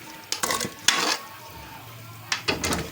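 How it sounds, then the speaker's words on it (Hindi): Tender cooked beef for pulao is tipped into a cooking pot, giving a few sharp metallic clanks and scrapes of a spoon against the pot, spaced out with quieter gaps between. "तो यहाँ गोश्त गल चुका है और हम डाल देते हैं इसको पतीले में"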